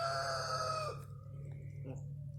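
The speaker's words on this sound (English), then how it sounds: "He hadn't been crowing till I pushed record." A rooster crows one drawn-out, strained call close by, ending abruptly; after it, quieter fowl noises and a low steady hum fill the background, with no talking.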